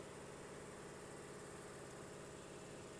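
A 2013 Toyota Camry engine idles at a steady, even hum with no revving, very faint and unbroken from start to finish.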